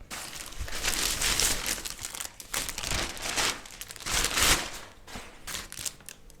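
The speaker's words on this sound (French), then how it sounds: "j'ai reçu un colis Shein que nous allons déballer ensemble" A Shein parcel's plastic packaging is torn open and handled up close, with loud irregular crinkling and rustling bursts and brief tearing sounds that come and go without pause.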